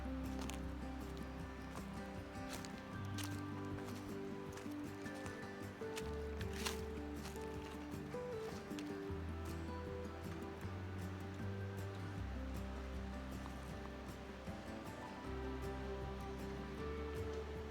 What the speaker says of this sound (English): this is the Linville River.